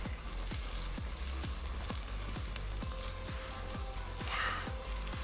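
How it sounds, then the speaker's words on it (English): Cleaned, deboned smoked fish fries in a pot, giving a steady close sizzle with a regular ticking pulse running underneath throughout, and no voices. "So I'm just going to let this fry for a while before we add in the next ingredient"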